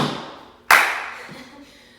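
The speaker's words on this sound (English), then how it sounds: "It's like a loud step, and then you clap." A single sharp hand clap rings out, preceded by a softer thud of a stamping tap-dance foot, a stamp-clap step, with a brief decaying echo afterward.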